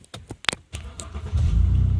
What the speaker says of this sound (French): tu peux remettre la voiture en route?